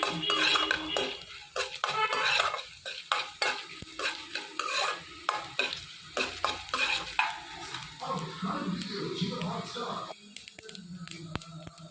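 Chana dal and urad dal fry in a pan while a metal spoon stirs them, giving repeated scraping clinks over a soft sizzle, close and rhythmic, with a few gaps and some faint talking.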